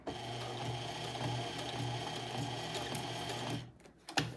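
A sewing machine stitches fabric pieces for a junk journal in a steady close hum for several seconds, then stops. A few clicks and handling knocks follow as the fabric is moved.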